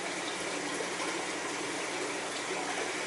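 Water in an aquarium churned at the surface by a hand holding frozen fish food for tiny catfish, a steady close rushing, splashing wash with no pauses.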